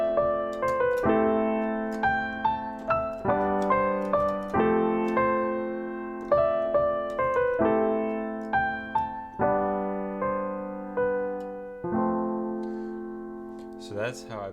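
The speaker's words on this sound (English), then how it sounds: "that's the piano I use," Grand piano chords struck one after another in a slow, steady rhythm, each ringing out and decaying, clear and close with no voices.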